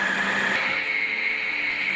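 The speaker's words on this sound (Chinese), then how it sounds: "盖上盖子，选择中档键，把它打成碎末。" A kitchen blender chops bird's eye chilies, garlic and fresh ginger into a coarse mince on a medium setting, a steady close whirring motor drone that runs evenly throughout without a break.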